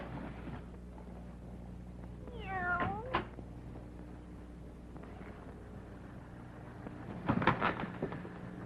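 A black cat in a 1941 Western film meows once clearly, with a second fainter meow and a low rumbling background soundtrack beneath.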